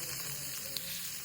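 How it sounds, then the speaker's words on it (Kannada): One-inch pieces of cut ginger frying in a pan over a medium flame, a steady soft sizzle held at low level throughout. "ಮೀಡಿಯಮ್ ಫ್ಲೇಮ್ ಇಟ್ಕೊಂಡು ನಾವು ಫ್ರೈ ಮಾಡ್ಕೋಬೇಕು"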